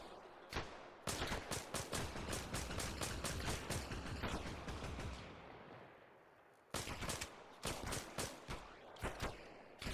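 Rapid bursts of automatic gunfire in the video game Arma Reforger, with dense sustained volleys for several seconds, a brief lull, then more sharp clustered shots, loud and close.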